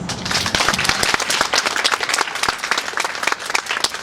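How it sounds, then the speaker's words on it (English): A crowd applauds at a youth navigation center ribbon cutting ceremony, dense, lively clapping that holds steady and fairly loud for several seconds with no talk over it. "Round of applause."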